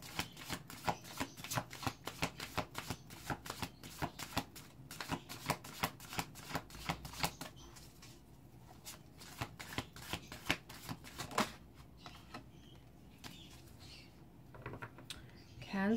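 Tarot cards being shuffled by hand produce rapid, crisp riffling bursts at close range, then slower, softer card handling as the shuffle winds down.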